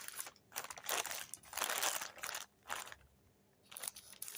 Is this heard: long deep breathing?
no